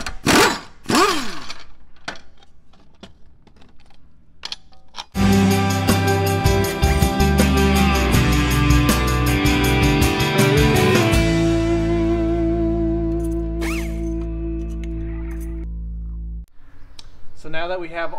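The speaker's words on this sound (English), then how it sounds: "I'll use the air ratchet to take them off" An air ratchet works on lawn mower blade bolts, a sharp burst of metallic clanks and ratcheting followed by a long, loud, steady mechanical whir that cuts off abruptly, with clunks of handling before and after.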